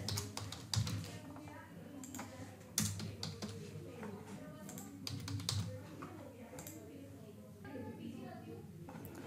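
Typing on a computer keyboard while entering credit card details at an online checkout, a steady run of light key taps with a few louder strokes under quiet talk.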